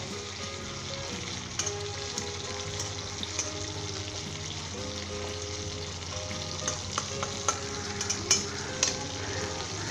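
Green chilli salan frying and sizzling steadily in a pan, with a continuous hiss and occasional stirring clinks throughout, no voices.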